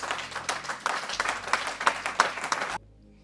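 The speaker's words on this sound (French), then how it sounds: "Ah non, vous n'avez pas même bien applaudi." A church congregation claps during a revival service, a fairly loud burst of many hands with a few sharper individual claps, ending abruptly after under three seconds into near silence.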